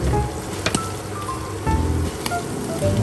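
Minced garlic sizzles in a pan after bacon, a steady close crackling hiss like rain with scattered pops, filling the whole clip at even loudness.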